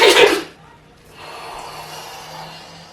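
A sneeze bursts out loud and close at the start, a short explosive burst, followed by quieter breathing and room noise.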